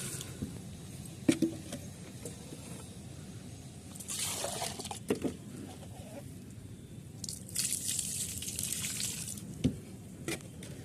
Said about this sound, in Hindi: अब दे देती हूँ मैं पानी।